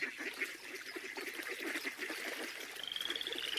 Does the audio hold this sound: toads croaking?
yes